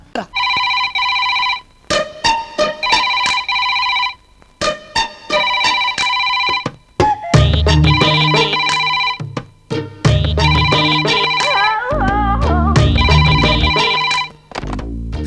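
A telephone rings loudly in repeated electronic bursts with short gaps between them, joined midway by heavier booming background sound that continues under the later rings; the ringing stops near the end.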